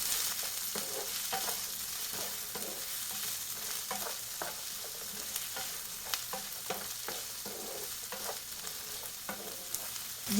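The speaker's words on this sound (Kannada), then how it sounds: "ನಾನು ಇದಕ್ಕೆ 2 ದೊಡ್ಡ ಈರುಳ್ಳಿಯನ್ನು ಕಟ್ ಮಾಡಿ ಇಟ್ಕೊಂಡಿದ್ದೇನೆ, ಅದನ್ನು ಹಾಕ್ತಾ ಇದ್ದೇನೆ" Two large chopped onions frying in a pan for a Mangalorean-style prawn roast, a constant crackling sizzle broken by repeated stirring scrapes, close and alone without talk.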